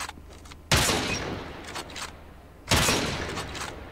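Gunfire at targets on the Call of Duty: Mobile practice range, two loud close bursts of rapid shots, each trailing off into a decaying echo, with no talking.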